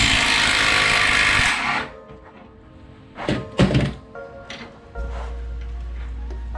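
An impact wrench hammers loudly on a front control arm bolt of a 2013-2018 Nissan Altima in a harsh burst of almost two seconds, then a few heavy thunks and knocks follow nearby.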